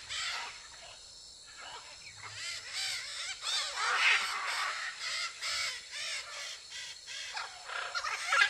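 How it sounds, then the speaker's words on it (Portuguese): A pair of blue-and-yellow macaws calling on a Brazilian farm, giving harsh raspy squawks that repeat almost without pause, with insects buzzing softly underneath. "Essas aí são as arara canidé."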